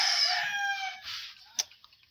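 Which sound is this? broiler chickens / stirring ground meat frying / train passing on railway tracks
broiler chickens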